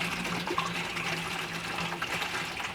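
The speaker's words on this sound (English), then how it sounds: "put this liter of worm juice into this watering can and fill it up with water" Watering can being filled with water mixed with worm juice for an urban garden: a steady gush of running liquid, continuous and fairly close, with no talk.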